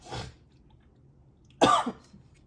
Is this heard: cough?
yes